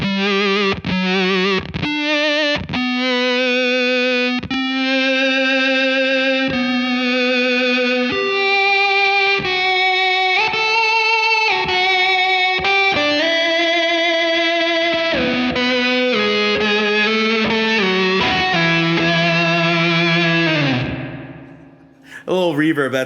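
An electric guitar runs through a Beetronics Zzombee Filtremulator effects pedal with its blend set by expression pedal, with reverb from a Mr. Black Super Swell. Plucked notes and sustained chords sound distorted and swept, ending in a fading swell.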